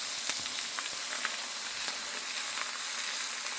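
Masala spice paste frying in oil gives a dense, even sizzle with scattered crackling pops, close and steady, with no voices.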